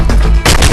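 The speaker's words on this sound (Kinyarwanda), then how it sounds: "Dore amasasu sasa. Sikia bullet wewe, sikia bunduki." Gunfire from a war film set among mercenaries, loud rapid bursts of shots in two dense clusters with a short lull between, close and forceful with no voices over it.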